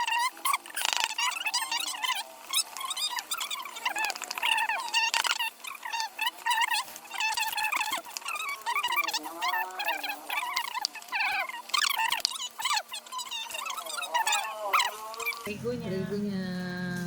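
Frogs croak in a dense, continuous chorus of rapid trilling calls around a home where cookies are being baked, with people talking throughout the sound.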